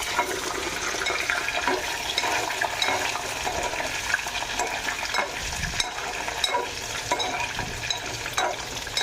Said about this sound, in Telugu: తర్వాత మునక్కాయలు వేస్తాను కొద్దిగా నూనెలో వేగితే బాగుంటాయని